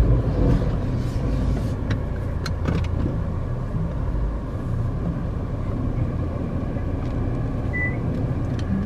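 A 2013 Nissan Sentra with a 1.8 liter engine driving, heard from inside as a steady low road and engine rumble with a few faint clicks and ticks, no talking.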